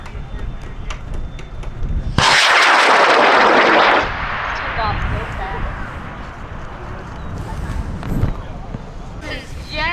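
High power rocket launch at the LDRS 42 event in Potter, New York: a sudden loud roaring blast of motor exhaust lasting about two seconds, then a fading rumble with crowd voices and cheering around it.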